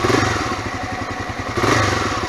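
Honda NX 250 motorcycle running at high revs, a close, steady buzzing engine drone with rapid firing pulses and slight rises in pitch, no talking.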